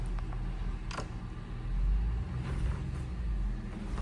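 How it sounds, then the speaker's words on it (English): A low engine rumble outside, steady with a swell in the middle, like a vehicle idling or passing at a distance. "I hear it. I hear a truck."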